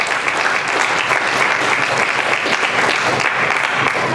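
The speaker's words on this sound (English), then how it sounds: "Give yourselves a big round of applause for being out here, standing up for liberty" A crowd at an outdoor liberty rally claps hard and continuously, a dense, close wash of hand claps with no letup.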